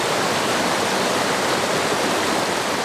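Water flushing through a portable reverse osmosis drinking water purifier makes a loud, steady rushing hiss, close and continuous with no pauses.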